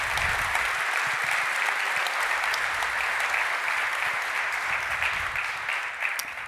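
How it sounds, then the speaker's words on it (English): Conference audience applauding to welcome a speaker to the stage, a dense, even wash of many hands clapping, steady throughout and tapering slightly at the end. "Please give a big round of applause"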